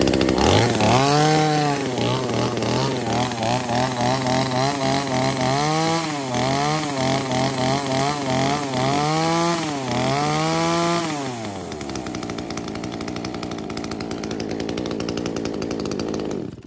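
A used Japanese-market chainsaw runs loudly up close, its engine revving up and down several times before settling into a steady, buzzing drone.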